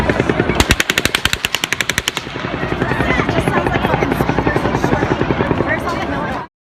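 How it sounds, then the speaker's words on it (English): Rapid automatic gunfire at a concert shooting crackles in tight, evenly spaced bursts, loud and sharp at first, then continues as a dense, rhythmic volley before cutting off abruptly. "So according to Paul Joseph Watson, the very present sounds of gunfire heard by concert goers"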